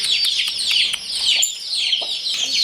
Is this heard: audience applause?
no